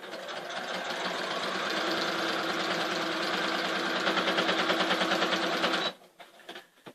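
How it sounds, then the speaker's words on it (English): Sewing machine running steadily as it stitches through a quilt-as-you-go heart block, a continuous close mechanical whir with rapid needle rhythm for about six seconds before stopping. "now we're going to go ahead and sew it all the way down"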